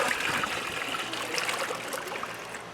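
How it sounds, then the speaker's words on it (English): A bucket of boiling water dumped outdoors into a tub for scouring raw wool fleece, a loud rushing pour that splashes and gurgles continuously, easing slightly toward the end, with no talk. "And I'm going to dump 1 bucket of boiling water."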